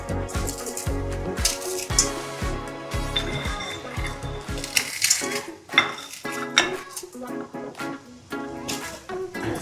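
Metal spoon or spatula scraping and knocking in a pan while fried bori is crushed into fried red amaranth greens, with irregular clinks and scrapes that are loud and close, then softer stirring.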